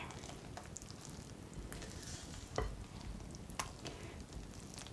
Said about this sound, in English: And stir one more time.